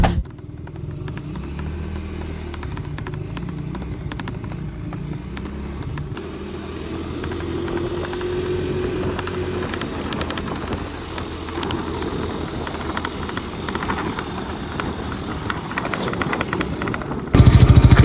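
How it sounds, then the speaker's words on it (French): A motorcycle engine rumbles steadily for most of the clip, swelling a little as it passes near, with wind buffeting the microphone and some clatter. The setting is Madagascar. "Ça c'est une vraie moto ça."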